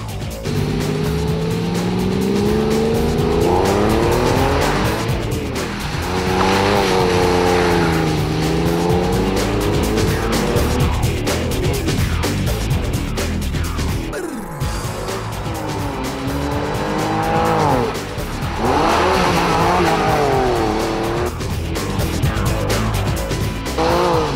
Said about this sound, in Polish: Porsche 911 Carrera 4 to świetny samochód do zabawy.